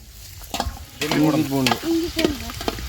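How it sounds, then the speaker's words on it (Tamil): Tomatoes sauté in a pan on an outdoor farm fire, with scraping stirs and a steady sizzle close by, while people talk loudly over the cooking. "தக்காளி நல்லா வதங்கட்டும்."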